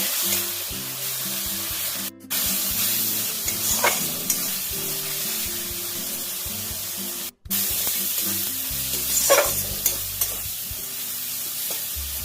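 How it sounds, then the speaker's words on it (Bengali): Spice paste for a tangra fish curry with potato and eggplant frying in a pan with a splash of spice-rinse water, giving a steady close sizzle with stirring scrapes throughout, briefly cut twice. "খুব সামান্য একটু মশলা ধোয়া জল দিয়ে দিচ্ছি, যাতে মশলাটা পুড়ে না যায়।"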